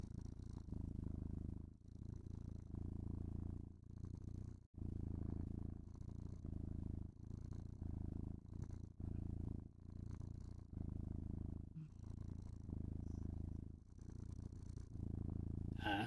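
A person imitates a cat purring, a low rumbling drone in steady rhythmic cycles with brief breaths between, close and continuous.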